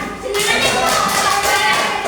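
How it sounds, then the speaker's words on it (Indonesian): Schoolchildren in a classroom clapping for the first-place winner, a burst of brisk, loud, close applause from many small hands that starts abruptly and continues for about two seconds, with a voice mixed in. "Tepuk tangan."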